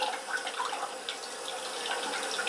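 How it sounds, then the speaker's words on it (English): Water flushing out of a toilet supply line during a stop valve replacement, a steady rushing, splashing flow that runs continuously and close by, with no voices over it. "We're just going to let it flush out"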